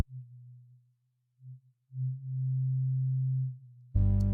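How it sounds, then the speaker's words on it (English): A soloed synth bass resonance around 129 Hz hums steadily, dipping and swelling, before a sudden louder, buzzier burst cuts in at the end. "I'm hearing the area's more around 129"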